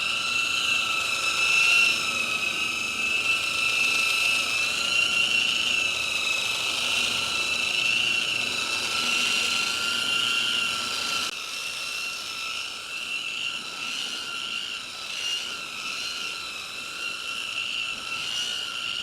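Continuous high-pitched whirring of a power sander taking a fine layer of paint off a 1976 Chevy, steady and close, shifting slightly in tone partway through.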